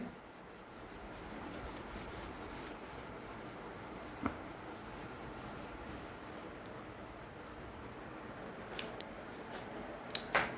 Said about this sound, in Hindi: अभी मैं इसको इरेज कर देता हूँ एक बार क्वेश्चन की स्टेटमेंट को